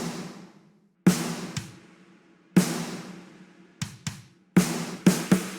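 Layered acoustic rock snare, a punchy crack with a long bright tail, hit at irregular spacing over a low sustained tone, the later hits quick doubled strikes, no voices.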